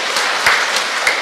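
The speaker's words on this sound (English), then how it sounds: "please give a round of applause to our new board of directors." Steady applause from an audience at a Buddhist memorial service welcoming a new board of directors, a dense, even wash of many hands clapping.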